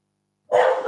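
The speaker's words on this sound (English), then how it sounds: "my dog is the second doorbell" A dog barks loudly and close by in a quick burst of yips, breaking the silence right after a doorbell rings indoors.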